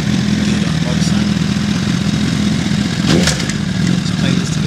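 A motorcycle engine rumbles steadily nearby, with some clatter and a brief rise partway through, while people talk over it.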